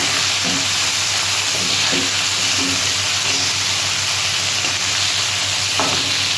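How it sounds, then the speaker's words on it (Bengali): About a kilogram of small fish fries lightly in a pan with a steady, loud, even sizzle and hiss, broken by a few soft knocks of stirring. "হালকাভাবে ফ্রাই করে নেবো মাছটা আমি খুব একটা লাল করবো না"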